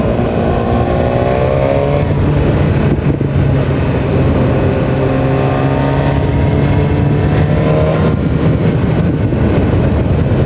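A 2017 BMW S1000R motorcycle is ridden, its loud engine droning and pulling up through the gears as it accelerates, heard close up with steady wind and road noise throughout.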